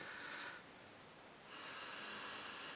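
Two close, breathy nasal sniffs of a swirled Cloudwater double IPA, separated by a short pause, soft and airy against a quiet background.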